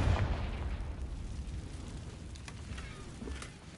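A Confringo spell blasting in Hogwarts Legacy, a loud booming burst at the start that rumbles and fades into a lingering crackling tail with a few faint pops.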